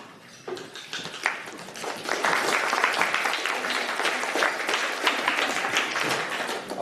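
An audience breaks into applause at a university geography department awards ceremony, starting with a few claps and swelling into sustained, even clapping from a room full of people.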